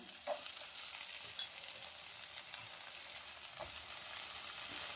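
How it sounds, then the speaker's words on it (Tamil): Onions sautéing in a pan for a broccoli and dry fruit gravy, a steady soft sizzle with a couple of faint utensil taps, no talking. "வெங்காயம் போட்டு நல்லா வதக்க போகிறோம்"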